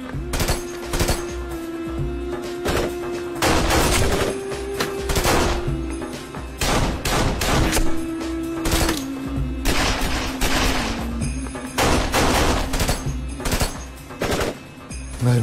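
Gunfire in a shootout scene from the Turkish TV series Kurtlar Vadisi, dense bursts of automatic and single shots in rapid irregular clusters over a low sustained hum, loud and continuous for the whole stretch.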